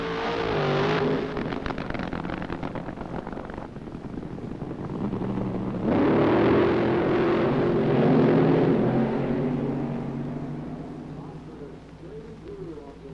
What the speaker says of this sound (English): these super fast cars racing for the finish